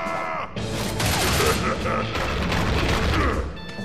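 Gunfire and action in the Shank video game during a butcher boss fight comes in dense, continuous bursts with booming thumps and a layered game soundtrack, loud throughout after a brief opening lull.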